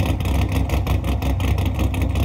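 A 572ci big-block engine with a big cam in a Squarebody truck rumbling close up with a loping, choppy idle rhythm, loud and alone.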